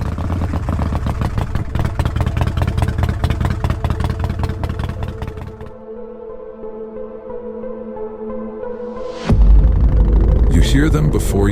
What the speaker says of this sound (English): Hear them before you can see them in your rearview mirror, with their engines roaring.